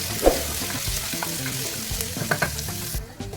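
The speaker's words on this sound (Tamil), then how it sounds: "ஆனியன் வந்து கோல்டன் ப்ரௌன் வர்ற வரைக்கும் வதக்கணும்" Onions sauté in oil with cloves and curry leaves for a chicken kurma, a constant loud crackling sizzle broken by several quick spoon stirs and taps in the pan.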